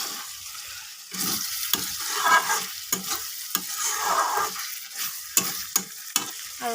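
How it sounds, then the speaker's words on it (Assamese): Meat for an Assamese koldil dish with a split green chilli sizzles in a pot while a spoon scrapes and stirs it in repeated strokes, close up, with occasional sharp clinks against the metal. "মই আকৌ লৰাই দিম"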